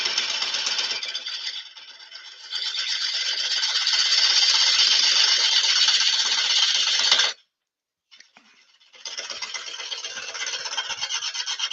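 A wood lathe tool cuts a tenon on a spinning workpiece, producing a loud, steady rasping shear that drops out briefly around the midpoint before resuming.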